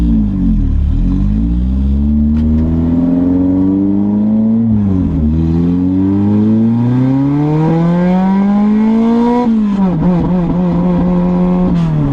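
A loud 1991 Honda CRX engine revs steadily upward in pitch in second gear, shifts down briefly, then climbs again in a long hard pull with a strong rising whine.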